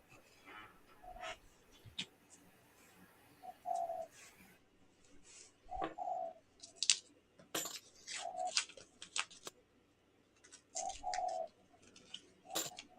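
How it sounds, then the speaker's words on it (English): Birds in a yard give repeated short chirps and a few low dove-like coos, scattered in bursts with pauses between, fairly close and moderately loud, with no talking. "I hear the birds chirping."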